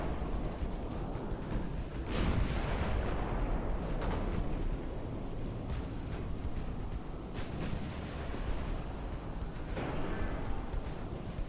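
Heavy naval guns boom from warships in Ultimate Admiral: Dreadnoughts, several deep, rumbling blasts spread over a steady low roar, fairly distant and muffled with no talking.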